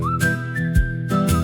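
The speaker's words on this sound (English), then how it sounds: "Oh, we whistle while we work," A person whistles a steady melodic line within a worship song performed by a band, sustained tones running over a low instrumental backing.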